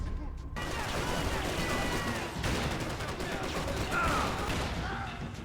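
Rapid gunfire and bursts of shots in the Max Payne 3 video game, dense and continuous under intermittent talk.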